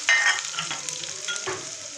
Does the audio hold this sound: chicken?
yes